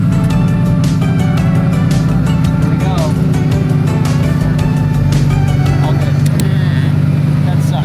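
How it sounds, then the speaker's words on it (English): A Lamborghini convertible's power top being lowered: a steady mechanical motor hum with a running engine beneath, punctuated by clicks and latch ticks, while someone talks over it. "So let's put the convertible top down."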